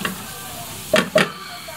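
Garlic and onion sauté in a pan for a soup, with a soft sizzle beneath two short, bright bursts of stirring or scraping close by.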